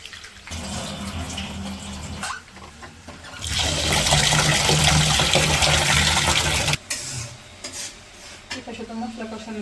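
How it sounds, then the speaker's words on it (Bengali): Rice mixed with masoor and khesari dal is swished and rinsed in water by hand, with choppy sloshing that swells into a loud, continuous rushing swirl midway before dropping back to lighter splashes. "চাল আর ডাল একসাথে ধুয়ে নিচ্ছি।"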